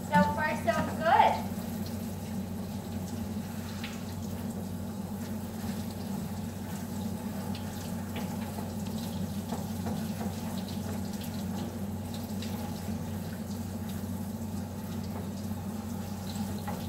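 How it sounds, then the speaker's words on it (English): Water runs steadily from a tap during a dog's bath, a constant hiss and low hum that stays even throughout, while people talk quietly nearby. "What's with all the water?"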